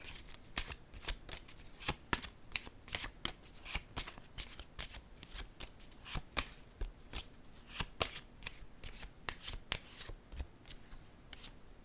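Cards shuffled and laid down again and again, a rapid train of crisp riffles and slaps with short pauses between, close and clear, with no talk over them.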